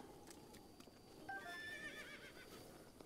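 A horse neighs in the video game Zelda Breath of the Wild, a faint, brief whinny midway through. Soft hoof clops sound under a quiet, hissy background.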